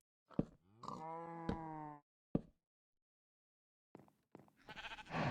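Cow mobs in the Minecraft video game give several drawn-out, moaning moos at close range, two long calls up front and then a short one, followed after a silent gap by rustling game noises.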